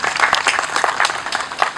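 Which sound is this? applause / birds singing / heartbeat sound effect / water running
applause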